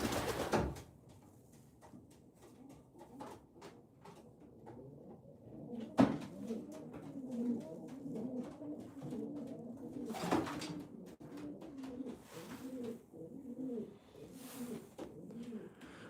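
Racing pigeons in a loft at night give soft, repeated throaty coos, close and fairly quiet, with a few sharp knocks and door-like clatters mixed in.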